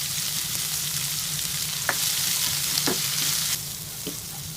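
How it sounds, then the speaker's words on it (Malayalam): Sliced onions sautéing with salt in a pan for a restaurant-style egg curry: a constant close sizzle with a few sharp stirring scrapes against the pan. "ഒരൽപ്പം ഉപ്പ് ചേർത്ത് വേണം നമുക്കിതിനെ വഴറ്റിയെടുക്കാൻ"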